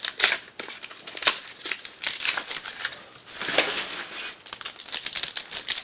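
Crisp, close plastic crinkling as a Pokemon B&W Dark Explorers trading card blister pack is torn open, with irregular bursts of rustling and crackling throughout and no talking.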